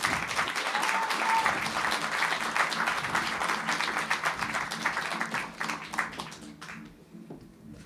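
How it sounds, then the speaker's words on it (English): Audience applause at a startup awards evening in Vilnius greets a speaker coming to the stage: dense, steady clapping for about six seconds that thins out and fades near the end. "Please welcome her with a round of applause"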